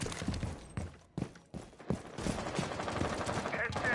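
Gunfire from a PS4 shooter game, a run of sharp shots with brief gaps that then turns into a dense, continuous rattle, set against game sounds and voices talking over the action.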